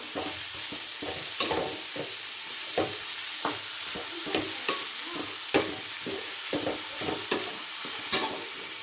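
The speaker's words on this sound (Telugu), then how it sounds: "ఇలా కలుపుకుంటూ తిప్పుకోవాలి" Ridge gourd curry is stirred in a hot pan, with a soft continuous sizzle under repeated scraping and tapping of a spoon against the pan, roughly once a second, close and fairly quiet, with no talking.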